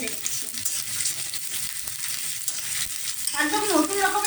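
Onion and green chili frying in a pan, a continuous close hiss and sizzle with soft stirring, and a faint voice entering near the end.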